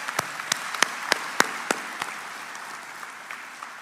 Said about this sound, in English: Let's have a round of applause for our family members.